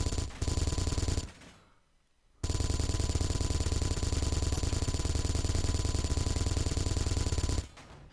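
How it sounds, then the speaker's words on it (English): A Gatling turret in the Space Engineers game fires long, rapid, loud bursts, with a brief pause and quiet gap before a second sustained stream of fire that cuts off sharply. "Let's take manual control of my Gatling turret and get in a little trigger time"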